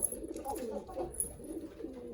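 Pigeons kept as flying birds coo softly and steadily nearby in a coop, low rolling calls repeating over a faint background.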